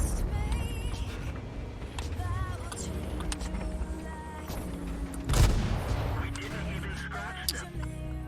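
Tank guns firing APCR shells in World of Tanks, heard as repeated booming shots among constant engine rumble and battle noise, with one heavy close blast midway and someone talking over the action.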